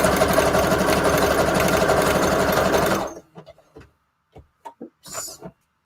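A sewing machine runs steadily for about three seconds, stitching junk journal pieces with a loud, even mechanical whir, then stops and is followed by a few soft handling clicks and rustles.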